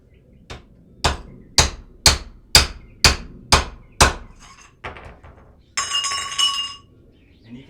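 A bearing is hammered onto a Kawasaki KLX300 steering stem, about eight sharp ringing metal blows in a steady rhythm until it bottoms out, then a few lighter taps and a brief metallic rattle.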